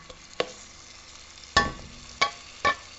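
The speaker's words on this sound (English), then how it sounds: "Just put a bit of oil in just to braise the onions" Onions braising in a little oil in a pan for a Hungarian mutton goulash: a soft, low sizzle broken by four sharp scraping stirs of a utensil against the pan, with no talking.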